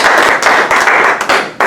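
Applause from an audience at a Santa Cruz County fundraiser, cheering a newly passed United Farm Workers bill: dense, loud continuous clapping throughout with brief dips, no talk over it.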